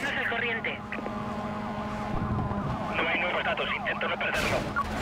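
In the racing game Need for Speed Most Wanted, police car sirens wail steadily in overlapping layers over engine roar during a chase, while someone talks over the game sounds.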